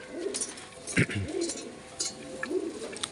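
Domestic pigeons kept in a loft, including a Jira Sakdam pigeon, give soft repeated coos near the listener over a steady ambient hiss, and a voice talks intermittently in the background.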